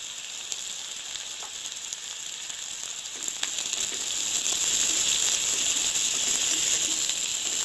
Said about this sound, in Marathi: आता ह्या चांगला मी परतून घेतोय.